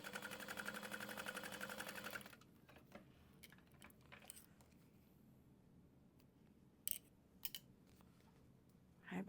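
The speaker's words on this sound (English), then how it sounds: "sew across the open raw edge" A domestic sewing machine stitches across the open raw edge of a crossbody bag, running in a steady loud burst for about two seconds before stopping, followed by quiet handling clicks and rustles.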